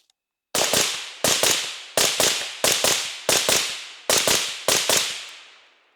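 Suppressed gunfire through a B&T Print XH suppressor outdoors: seven sharp reports, mostly in quick pairs, each ending in a short decaying echo, loud and close with no talk.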